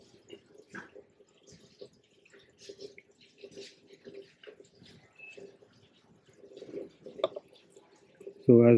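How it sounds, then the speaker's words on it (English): Water drains through a car's cabin air intake duct on a Scorpio-N, heard as faint, irregular trickling and dripping that rises and falls, ending in a sudden loud thump. "So as you can see, the water is getting drained."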